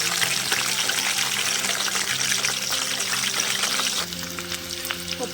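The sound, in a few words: onions and green chilies frying in tempering oil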